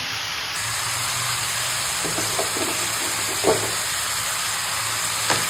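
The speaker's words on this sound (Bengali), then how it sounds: "দেখো সবে চিকেনটা দিয়েছি, এখন চিকেনটা ভালোভাবে কষবে" Marinated chicken frying in white oil for lemon chicken gives a steady, close sizzle and hiss throughout, with a few soft stirring clinks near the end.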